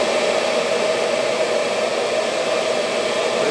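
A dust extraction suction tool for balsa dust runs with a loud, steady, close-up airflow roar that stays unbroken throughout, with no speech.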